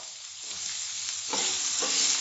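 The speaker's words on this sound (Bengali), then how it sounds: "এবার স্লাইস করা পেঁয়াজটা দিয়ে দিচ্ছি" Sliced onions hitting hot oil and being stirred, a soft sizzle that swells louder partway through as stirring strokes scrape the pan, close and steady.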